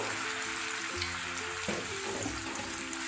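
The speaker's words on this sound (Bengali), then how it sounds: "এবার আমি একটা পেঁয়াজ বাটা এতে অ্যাড করব।" Onion paste hits a pan of hot ghee during cooking of Mughlai mutton rezala, giving a continuous, close, fairly loud sizzle with a faint tonal hum underneath.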